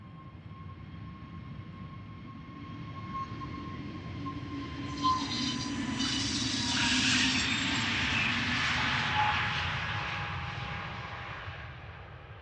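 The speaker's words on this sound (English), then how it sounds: "next up is an EasyJet A320 Neo going to Bristol" An EasyJet Airbus A320neo jet departs Amsterdam Schiphol toward Bristol, a steady engine roar building from a distant rumble to a loud close pass with a hissing whine, then holding strong as it climbs away.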